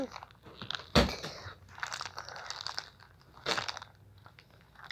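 Teeth sink into a giant gummy snake almost three feet tall: one sharp, close bite, then soft squishy chewing and smacking, and a second loud bite a few seconds later, all without talk.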